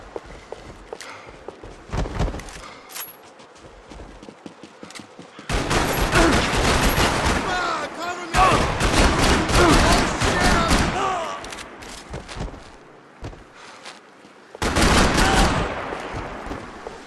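Gunfire in the video game Max Payne 3: long, dense bursts of automatic fire in loud stretches separated by quieter gaps with footsteps and game ambience, and some shouting mixed in.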